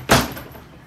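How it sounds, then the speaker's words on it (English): A door shuts with a single short thud, near and fairly loud, followed by a brief fading room tail. "I'm going to shut the door."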